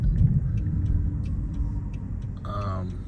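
Dodge Charger engine rumbling low and steady from inside the car during a ride, with road noise and a voice talking over it.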